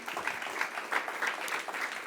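A church congregation claps together in a steady, dense burst of applause offered in worship, sustained and fairly close throughout.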